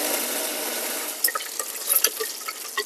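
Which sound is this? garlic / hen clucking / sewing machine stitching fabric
garlic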